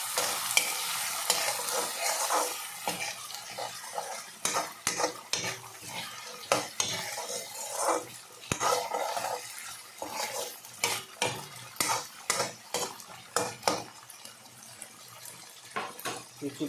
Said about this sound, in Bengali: এখন বুট দেওয়া হয়ে গেছে, এখন এখানে আমি একটু নেড়ে করে দিব।